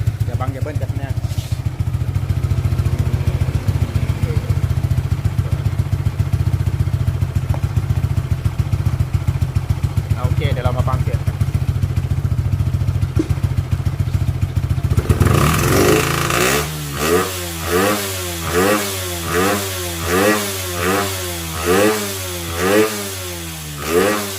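Yamaha Exciter motorcycle with an up-sized engine and a quiet aftermarket exhaust, idling low and steady, then blipped in a run of short, rhythmic revs that rise and fall again and again, close by and with no talk.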